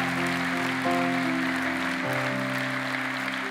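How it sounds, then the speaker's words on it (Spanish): A church congregation claps steadily for several seconds during a service, the dense applause layered under sustained keyboard or organ chords. "Dele un aplauso al Señor"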